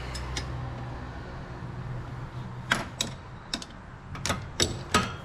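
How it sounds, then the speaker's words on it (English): Wrenches clanking and ratcheting while tightening an adjustable column shift linkage kit on a vehicle, heard as several sharp metallic clicks and knocks over a steady background hum, the strokes coming in an irregular series. "I'm gonna grab some wrenches and we'll tighten that baby up."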